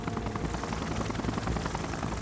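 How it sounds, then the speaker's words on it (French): Two combat helicopters flying over Pakistan at night, a dense, steady rotor thrum with rapid blade chop, loud and close throughout with no talk. "Dans la nuit du 1er mai 2011, 2 hélicoptères de combat survolent le Pakistan."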